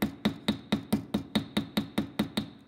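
Rivet being hammered to clamp metal pieces together in an art studio, a steady series of about a dozen sharp metallic hammer strikes at an even, brisk rhythm, close and clear with no talk.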